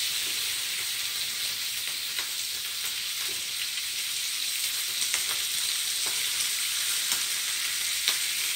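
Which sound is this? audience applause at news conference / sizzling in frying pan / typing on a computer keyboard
sizzling in frying pan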